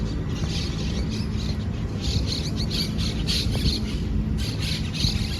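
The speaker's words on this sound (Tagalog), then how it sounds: "oh dami mga ibon oh dami mga ibon" Many birds squawking and chirping together near an airport, a constant busy chatter of overlapping calls at close to moderate distance over a steady background hum.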